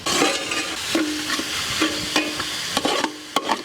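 Onion, ginger garlic paste and green chillies frying in a pan for a village-style mutton boti gravy, with steady close sizzling and several sharp stirring scrapes against the pan, no voices.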